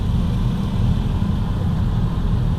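A car passes close by as a steady, loud engine and tyre rumble that holds evenly for a few seconds, with no talking.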